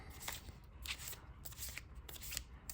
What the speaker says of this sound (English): Let's go ahead and get a quick shuffle.